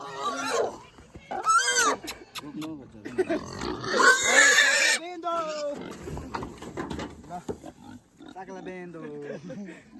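Shrill, choppy squeals and grunts from pigs being loaded onto a truck, close and loud in uneven bursts, mixed with people talking and shouting nearby.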